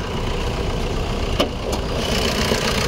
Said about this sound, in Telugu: ఒకసారి బండి ఇంజన్ స్టార్ట్ చేసి చూపిస్తాను, సౌండ్ కూడా ఇంజన్ కూడా స్టార్ట్ చేసి చూపిస్తాను